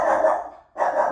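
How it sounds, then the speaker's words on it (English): A house dog barks at people walking past the home, sounding as a continuous loud, harsh bark, then a brief pause and another burst. "Apologize for my dog."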